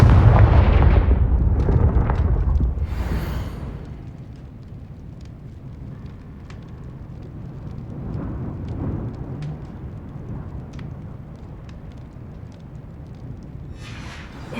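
Confringo fire spell blasts in the Hogwarts Legacy video game, set in a cellar: loud booming explosions at the start that fade into a rumbling, crackling tail with scattered small pops, no talking.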